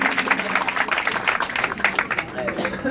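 An audience aboard the Barış Manço ferry at a 2019 memorial event in Izmir claps in a brisk, scattered patter, with crowd voices mixed into the applause throughout.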